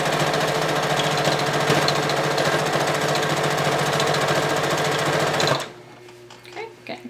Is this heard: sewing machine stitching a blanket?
yes